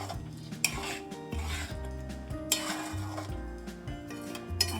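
A spoon stirs chicken karahi in a metal pan after the heat is switched off, giving repeated scraping and clinking against the pan with a few sharper knocks, close and fairly quiet, with no talking.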